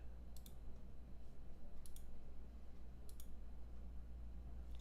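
A computer mouse clicks three times at a slow, even pace, each click a crisp double tick, close and quiet over a steady low hum during Linux desktop customization.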